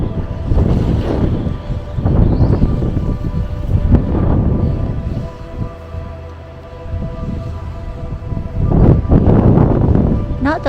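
Very strong, gusting wind buffets the microphone on a swinging chairlift above a mountain ski slope in Andorra, roaring loud and continuous with surges, while someone talks over it.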